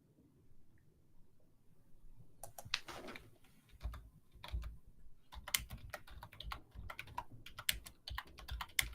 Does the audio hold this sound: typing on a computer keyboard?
yes